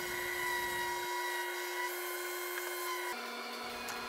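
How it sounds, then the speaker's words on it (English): A router fitted with a half-inch round-over bit shaping wooden stool tops makes a steady, high-pitched motor whine with a brief drop in load partway through, loud and close, with no voices. "I just took the tops over to the router and I'm using a half inch rounding over bit."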